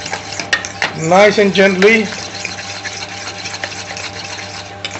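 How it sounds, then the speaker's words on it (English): A fork whisks omelette ingredients for an Indian omelette in a bowl, giving a soft continuous clicking and sloshing that stays close, while someone speaks briefly over it. "at present time we are using a fork to mix all the ingredients in"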